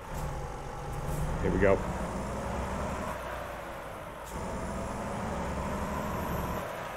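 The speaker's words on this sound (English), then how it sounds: "I believe this is a base game engine I have in this truck" Truck engine in American Truck Simulator, a base-game engine sound, running as a steady low drone through the whole stretch, with a brief rise in the middle and someone speaking over it near the start.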